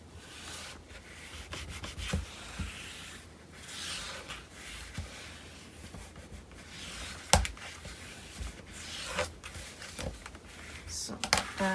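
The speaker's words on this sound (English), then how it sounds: "I can burnish this down." Paper is burnished down by hand onto a mini album page, producing soft, continuous rubbing and scraping strokes close up, with a few sharper taps and no talking.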